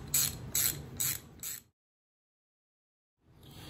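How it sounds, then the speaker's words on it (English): A ratchet wrench clicks in quick bursts, four loud rhythmic runs, while tightening the clutch basket bolts on an engine with the side cover off. Close up, then a pause of silence before the ratcheting starts again. "I'll put my ratchet into uh, forward mode, forward mode, and uh, I'm going to evenly go around and uh, tighten up the basket."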